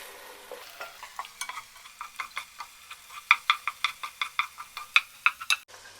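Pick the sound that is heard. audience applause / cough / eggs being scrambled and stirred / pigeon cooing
eggs being scrambled and stirred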